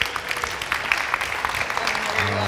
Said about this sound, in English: A little applause for our actors.